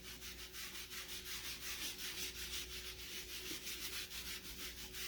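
Close, continuous rhythmic scrubbing of chalk paste off a silk screen, brisk back-and-forth rubbing strokes repeating evenly with no voices.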